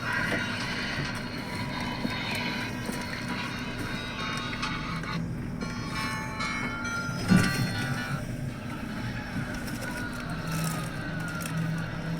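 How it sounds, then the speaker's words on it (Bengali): The 12839 Howrah Chennai Mail train at Srikakulam Road station gives a steady rumbling drone from on board, with a brief sharp clank partway through. "ট্রেন এসে পৌঁছলো এখন শ্রীকাকুলাম রোড"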